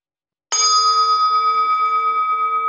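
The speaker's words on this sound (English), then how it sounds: "Now I'm going to ring the bell" A meditation bell is struck once and left to ring, its bright tone sustaining and slowly fading with a gentle pulsing shimmer, alone in a quiet room with no talk.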